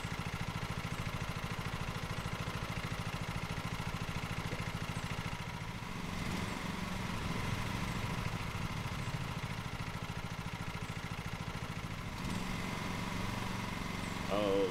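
A lawn mower engine runs in the video game Lawn Mower Simulator, a steady mid-pitched drone that holds for the whole stretch with slight shifts in tone, while a person talks over it.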